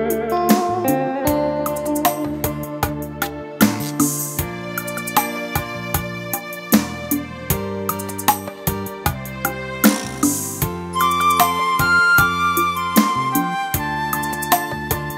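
Vietnamese pop song with singing over a steady beat, played loud through a budget home karaoke speaker system costing 9.9 million dong, rich full-band sound with regular rhythmic peaks throughout.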